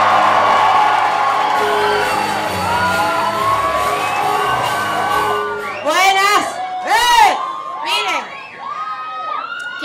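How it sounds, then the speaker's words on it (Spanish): A stand-up comedy audience cheers, whoops and shouts for comedian Nadia María, a dense crowd roar that gives way to loud rising and falling whistles near the end. "un fuerte aplauso para la Nadia María"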